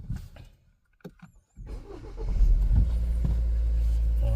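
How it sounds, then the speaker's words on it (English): A cold Hyundai Tucson with a dual-clutch transmission starts up, with brief cranking after a few quiet clicks, then catching into a steady, fairly loud idle that holds to the end. "start the vehicle up."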